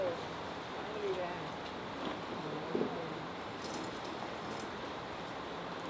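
Steady rain patters down at a chicken farm, a constant soft hiss of drops on surfaces with a few brief louder taps, fairly quiet throughout.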